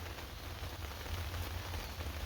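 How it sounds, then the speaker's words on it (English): Steady rain falls outdoors in the bush, a dense, continuous patter on surfaces all around with a low rumbling undertone and no pauses or voices. "just listening to the background noises, and this rain it's really peaceful"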